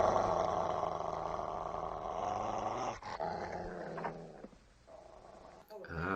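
A low, sustained dog growl from the 1976 horror film The Omen rumbles steadily under a dark film score, fading toward the end with a few faint thumps.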